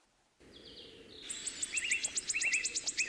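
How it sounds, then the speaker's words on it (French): Birds sing in a forest at morning, with repeated bright chirps and a rapid trilling series rising after a short silence, fairly faint and distant, with no talk. "Je suis réveillée par le chant des oiseaux."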